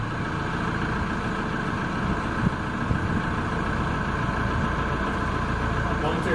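Steady low engine idle from the steamboat Sabino, a historic river launch at Mystic Seaport, easing back into her home berth, a constant rumble throughout with faint voices mixed in.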